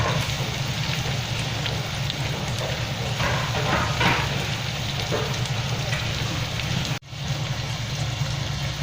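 Onions sizzling in a frying pan as the first step of Filipino beef kare-kare, a steady, close, continuous crackling hiss with no talk.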